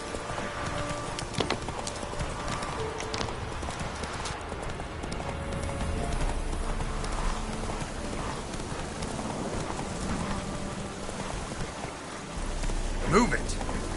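Horse hooves clip-clop continuously in The Witcher 3, a brisk trotting rhythm over game ambience, with someone speaking intermittently and a sharper jingle near the end.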